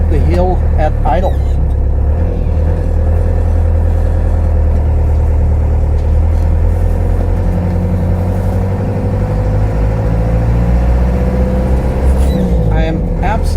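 A 1989 Land Rover Defender 110 Perentie 4x4 with an aluminium body climbing a hill at idle, its engine holding a steady low rumble heard from inside the cab, with someone talking over it throughout.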